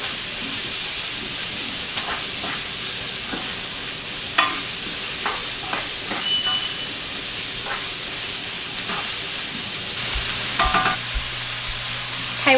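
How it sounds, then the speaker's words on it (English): Mushrooms and onion sautéing in a pan give a steady, close sizzle and hiss throughout, with occasional stirring scrapes and clicks and no talking. "We're going to add our mushrooms and our onion to our pan, and we're going to saute them for probably about 4 or 5 minutes."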